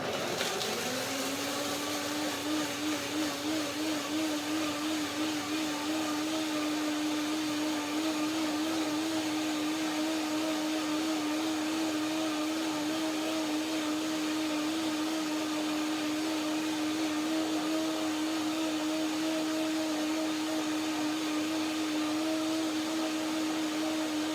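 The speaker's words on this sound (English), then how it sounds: "The blender has to go, and then I blend it" A kitchen blender whirs continuously while blending cashew curd for a cress cucumber salad with dill and sesame, a loud steady motor whine with a sustained pitch after a brief spin-up.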